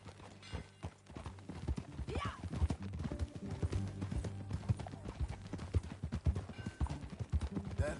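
Horse hooves clip-clop at a steady riding gait in the Western video game Red Dead Redemption 2, rhythmic and fairly close, with occasional faint background voices.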